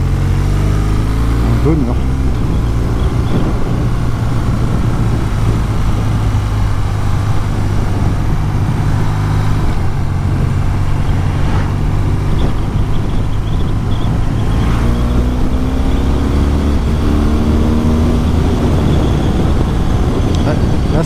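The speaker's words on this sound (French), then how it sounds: "Ah, le shifter est vraiment sympa. Au rétrogradage avec la sonorité, c'est" A 2024 BMW R12 cruiser motorcycle riding on the road and downshifting through its quickshifter, the engine loud and close over steady wind and road roar, its pitch stepping between gears while a rider talks.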